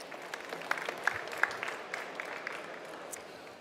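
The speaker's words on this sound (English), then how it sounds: "Big applause, ladies and gentlemen." Audience applause at the Formnext additive manufacturing trade fair industry stage, a steady, moderately distant clapping from a seated crowd with a few sharper individual claps standing out.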